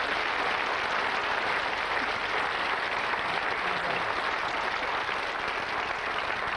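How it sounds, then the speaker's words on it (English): A studio audience on a 1991 TV game show applauds the departing contestants, a continuous, even roar of clapping with no voices. "Let's give them a nice big round of applause"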